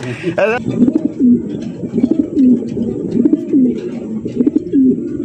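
Danish pigeons cooing close by, a series of repeated soft rolling coos in a steady rhythm, with a brief wing flutter near the start and background noise.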